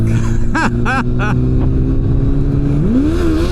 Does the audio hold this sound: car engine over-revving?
yes